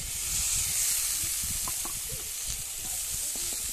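Fried kundri (ivy gourd) and potatoes tipped into a pan of sizzling spice masala, a steady loud hiss and frying crackle with scraping stirs running throughout, no voices.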